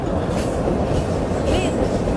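Train running on a railway in Brazil, a steady close rumble of wheels on track with faint rhythmic clatter throughout and a brief high squeal near the end.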